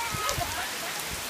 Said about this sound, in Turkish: Yağmur yağmur.